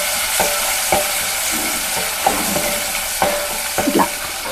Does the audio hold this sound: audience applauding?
no